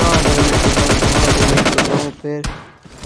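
Rapid bursts of automatic gunfire from a PUBG Mobile Lite match crackle loud and close for about two seconds, then a short pause before a final sharp shot.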